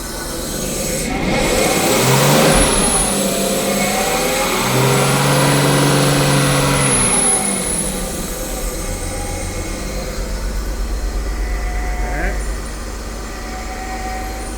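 A right-hand-drive-to-left-hand-drive converted Jaguar XJS engine runs steadily and fairly loud, with revs rising and falling and a brief smoothing as the last cylinder picks up, while a person talks over it.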